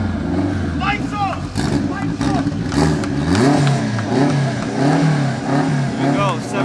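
A turbocharged K24 Honda hatchback and a Hellcat Charger rev hard at a $7,000 street race, their engines roaring loudly and rising and falling in pitch, with voices heard over the din.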